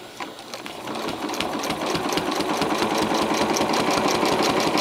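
A sewing machine free-motion quilts a feather design on a stiff, interfaced fabric piece, its needle running in a fast, steady mechanical rattle that grows slightly louder and stays close and continuous.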